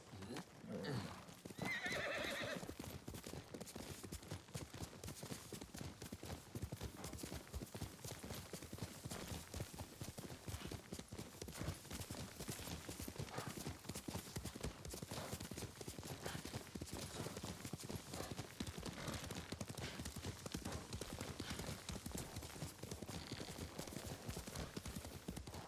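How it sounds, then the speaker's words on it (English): A horse in the samurai video game Ghost of Tsushima gallops with steady clip-clopping hooves and lets out a neigh, heard up close in a busy game mix with a voice briefly calling out. "Horse!"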